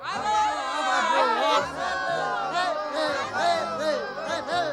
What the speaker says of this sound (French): Ah, les acclamations, c'est la plus schtroumpf des musiques pour moi.